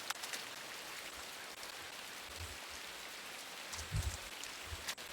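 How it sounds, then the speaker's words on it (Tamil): Rain falling in the video game Inside, a faint, steady patter with low thumps scattered through it, and no voices. "மழை பெஞ்சிக்கிட்டே இருக்குது ஃப்ரெண்ட்ஸ்."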